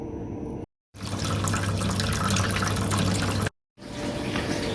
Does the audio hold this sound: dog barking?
no